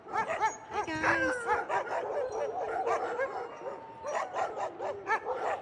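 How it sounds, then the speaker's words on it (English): Several sled dogs, Iditarod dogs in Alaska, bark and yip in a busy, overlapping chorus, with whimpers mixed in, fairly close and continuous throughout. "These are the Iditarod dogs and dog sled dogs."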